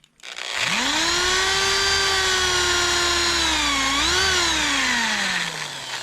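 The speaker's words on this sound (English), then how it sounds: "only drill to the masking tape." A power drill spins up and bores a pilot hole in wood, a loud steady whine that dips briefly as the bit bites, then winds down near the end.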